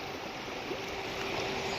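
Steady flowing river water beside a riverside temple, a continuous soft rushing wash heard close and alone without talk.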